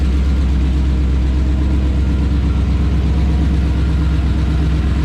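A car's 351 Windsor V8 engine idles steadily and close by on its first start, a continuous low rumble with a faint rhythmic pulse and no change in speed.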